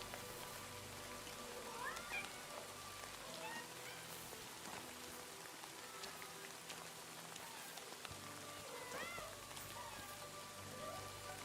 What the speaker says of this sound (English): Is that meowing?